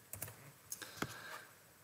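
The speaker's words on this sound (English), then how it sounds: "we will type in C5 underscore DB." Keys click on a computer keyboard while typing a database name during a software install, a few quick, light taps close to the microphone with no voices.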